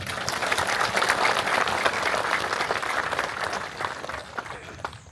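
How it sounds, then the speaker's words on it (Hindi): An audience applauds at a Gorkha Brigade event in Pokhara, a dense, steady burst of clapping from a large crowd that carries on for several seconds before thinning out. "एक बार सबले ताली मारे रहा"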